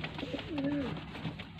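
Breeder pigeons give a soft, low coo, one rolling call in the middle against faint background murmur, quiet and close.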